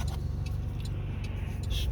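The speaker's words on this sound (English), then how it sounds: "Traffic is horrible." Road traffic at a light: a low, steady rumble of nearby car engines idling and rolling, with a few faint metallic clicks over the top and no voices.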